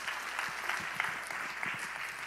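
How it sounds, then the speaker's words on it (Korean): A church youth winter retreat audience applauds softly and steadily, a faint, even patter of many hands heard from a distance. "박수 한번 주세요"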